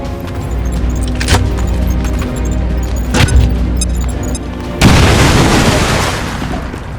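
A grenade blast from the XCOM 2 video game bursts loudly near the end, a broad rumbling explosion that follows a couple of sharper booms and fades out slowly over continuous game background noise.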